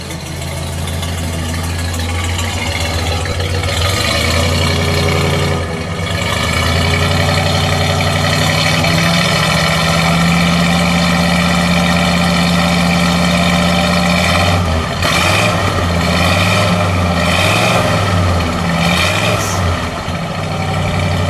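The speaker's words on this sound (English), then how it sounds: "listen to that exhaust for a second." A 1954 Mercury Monterey Sun Valley idles with a deep, steady exhaust rumble, close up, rising briefly in a few light revs before settling back.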